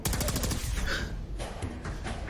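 A recoiling gun fires in a video game with a rapid burst of close, loud shots at the start, then scattered further reports under a gasp and background noise.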